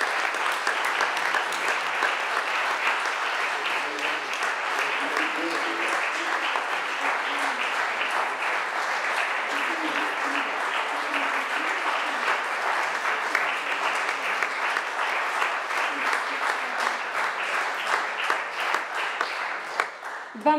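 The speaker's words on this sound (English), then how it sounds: "И първата награда, моля вашите аплодисменти за Хасан Игнатов, България." Sustained applause from a large audience at a piano competition closing ceremony, steady and even throughout with dense rapid clapping.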